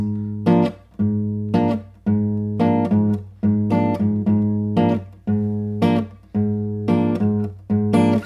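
Bossa nova guitar strums a short chord in a steady long-short rhythm, each strum choked off after a sustained low root note, repeating about a dozen times.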